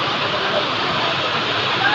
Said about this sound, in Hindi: देखो क्या बारिश हो रही है